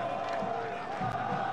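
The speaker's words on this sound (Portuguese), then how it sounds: "Torcida do Vasco canta sem parar no Morumbi" Vasco supporters chanting nonstop in Morumbi stadium during a São Paulo vs Vasco league match, a huge distant crowd roar with a sustained sung tone, heard steadily throughout.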